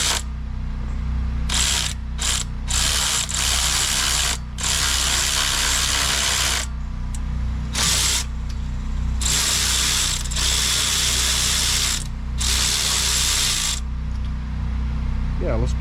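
A ratchet clicks in quick bursts as it removes a bolt beneath the temperature sender during a water pump change on a Dodge Challenger Shaker, with pauses between strokes over a steady low background hum.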